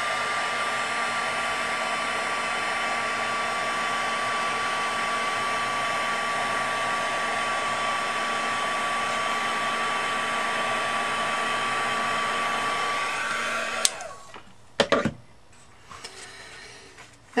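A heat tool blows hot air onto embossing powder on a brass stencil, giving a long, steady, loud fan roar that stops abruptly near the end, followed by a few clicks and handling knocks.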